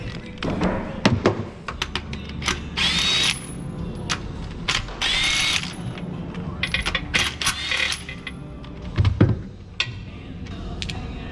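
Spark plugs being unscrewed from a Yamaha 1200 jet ski engine (66V GP/XLT), giving a run of close metallic taps, clinks and thuds from tools and parts, with bursts of ratcheting and scraping in a quiet workshop setting.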